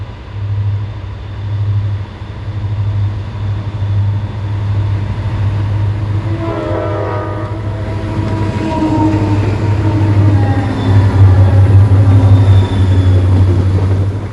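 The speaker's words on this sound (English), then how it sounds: "Heavy freight tonnage regularly pounds this section of jointed rail" A Reading & Northern heavy freight train rolls steadily over jointed rail, a loud continuous rumble with a low droning engine tone and rhythmic wheel clatter building toward the end, with no voices.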